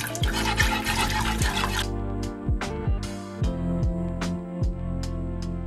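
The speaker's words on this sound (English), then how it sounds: "Now I'm gonna take some chicken broth and put that in here to give the gravy some bulk." Chicken broth poured into a pan of gravy made from drippings, a splashing pour for about two seconds followed by a few light drips and clinks.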